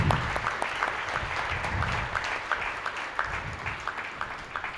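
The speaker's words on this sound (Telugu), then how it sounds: "ఒక్కసారి గట్టిగా మరి చప్పట్లు కొడదాం" Audience applause at a birthday celebration event fills the space with steady, rhythmic clapping from many people, loud and sustained before tapering slightly at the end.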